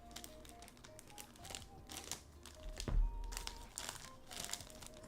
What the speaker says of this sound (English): My scissors would let me cut the bag.